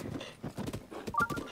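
Horse hooves clip-clopping steadily in The Legend of Zelda as a rider mounts up near a snowy stable, several quick close hoof falls in a brief burst.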